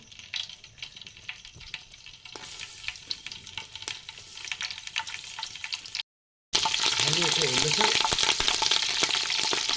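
Curry leaves drop into hot oil for a sambar tempering and set off a loud, crackling sizzle after a brief silence, following quieter stirring and kitchen clatter.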